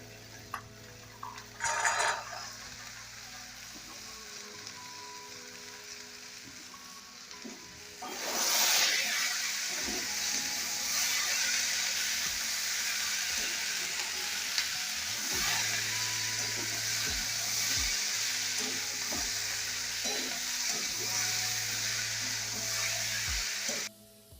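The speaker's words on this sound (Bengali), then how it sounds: "এবার আমি এর মধ্যে বিনস আর কড়াইশুঁটিগুলো দিয়ে আবার ভাজতে থাকবো।" Carrots, potatoes, beans and peas fry in a pan with a steady, close sizzle that swells partway through, broken by occasional stirring clicks and utensil taps.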